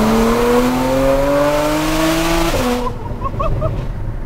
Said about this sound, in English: The burbles and the overrun.